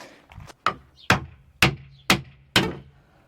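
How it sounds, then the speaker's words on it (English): Five loud, evenly spaced hammer blows strike wood to knock off epoxy, each a sharp knock with a brief ringing decay. "Grabbing the hammer."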